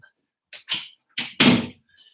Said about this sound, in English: I'll close this door so we have.